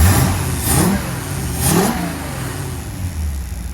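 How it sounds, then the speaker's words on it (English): A freshly rebuilt 390 FE V8 car engine revs twice in quick bursts, each rising in pitch, then settles back to a steady idle; loud and close. "It's idling nice. Takes the throttle nicer now."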